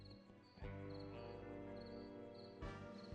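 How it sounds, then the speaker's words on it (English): Frogs croak in the point-and-click video game Thimbleweed Park, a faint, buzzing chorus of repeated chirps over a steady tonal ambient music bed. "I hear frogs"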